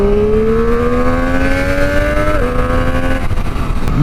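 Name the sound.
Triumph Street Triple 765 motorcycle engine revving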